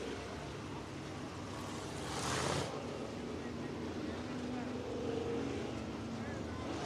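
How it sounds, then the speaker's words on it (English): Late model race cars of the 602 class rolling onto the Talladega Short Track, a steady distant engine drone under an announcer's continuous commentary, with a brief louder whoosh. "Pulling out on the track right now, you see another flight of 602 late models."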